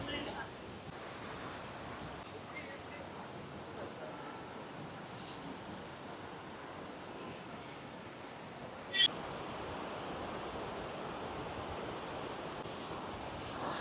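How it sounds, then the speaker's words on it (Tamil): A waterfall's water rushes forcefully, heard as a steady, broad roar of noise that fills the entire stretch at an even, fairly distant level, with a single brief knock partway through. "தண்ணி எவ்வளோ ஃபோர்ஸாக போகுதுன்னு பாருங்க."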